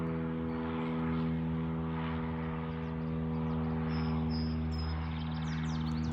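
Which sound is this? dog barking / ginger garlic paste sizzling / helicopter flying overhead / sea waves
helicopter flying overhead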